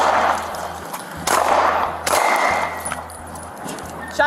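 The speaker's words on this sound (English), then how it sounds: "Shots fired. 3 shots were fired." Three gunshots fired during a police confrontation: sharp, loud cracks spaced roughly a second apart, each trailing off with echo, over a low steady engine-like drone.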